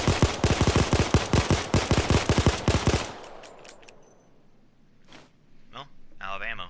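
Two Glock 17 pistols, also called the Chimano 88, fire together in the Payday 2 game, a rapid run of about two dozen sharp shots over three seconds. Clicks and fainter effects follow after the firing stops.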